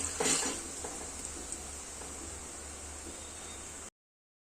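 Red chili powder fries in oil in a pan for a chicken dish while being stirred: a faint, steady sizzling hiss with a brief scrape near the start, then a low, even fry until it cuts off.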